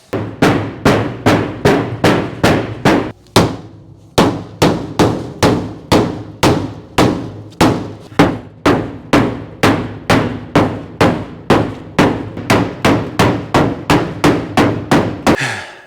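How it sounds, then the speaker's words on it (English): Repeated loud bangs of a rubber mallet on the rusty sheet-metal cab of a 1953 GMC, struck in a steady rhythm about twice a second with a short pause early on, each hit ringing briefly. "just bang against it with a rubber mallet"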